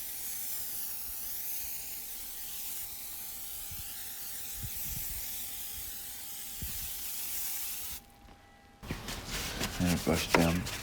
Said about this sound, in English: So foaming here with the IK foamer.